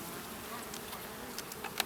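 Honeybees buzz steadily around an open hive during a queen-rearing beekeeping workshop, a continuous close hum with a few individual bees droning past near the end.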